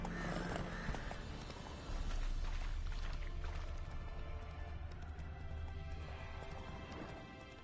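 Roach, Geralt's horse in The Witcher 3, galloping: rhythmic clip-clop hoofbeats under a busy, fairly quiet game background, with a crash-like thump near the start.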